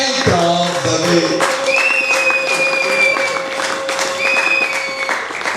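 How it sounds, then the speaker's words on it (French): Wedding guests applaud and cheer the newlyweds at a religious ceremony, a steady wash of clapping that lasts throughout, with an organ or keyboard tone held underneath. "Est-ce que les doyens peuvent recevoir les nouveaux mariés par leurs acclamations?"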